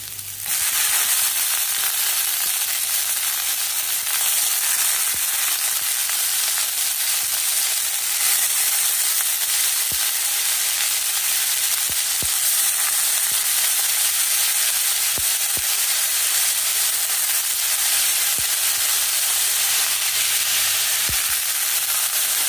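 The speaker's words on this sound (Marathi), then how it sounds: "कांदा भाजायला लागलाय, मसाला झाला आहे." Onion and masala frying in a pan for a Karnataka-style avarekalu saaru: a loud, steady hissing sizzle running throughout, broken by occasional sharp clicks of stirring, with no voices.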